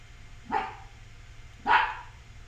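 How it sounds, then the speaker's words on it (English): A dog barks twice in a home during a stock-trading livestream, two short, moderately loud barks about a second apart, slightly distant, over a low steady background hum with no talking. "the dog gets a little loud"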